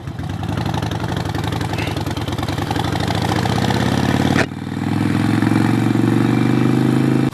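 A Harley-Davidson Sportster 48 motorcycle engine idles with a steady, throbbing low rumble that shifts and deepens slightly partway through, heard close and alone without talk.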